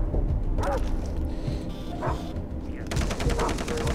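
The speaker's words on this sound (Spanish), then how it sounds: "Mierda, perros." Dogs barking in the video game Far Cry 3, repeated sharp barks and yips in short bursts over steady in-game background noise and gunfire-like clatter, fairly close and loud.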